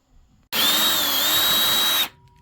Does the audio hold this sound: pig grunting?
no